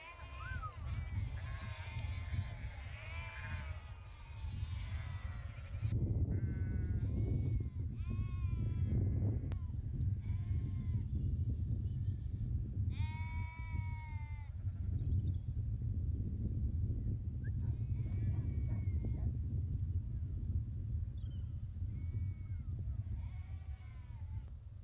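A small group of training sheep bleat repeatedly, several overlapping calls near and farther off, over a steady low rumble of wind or outdoor noise.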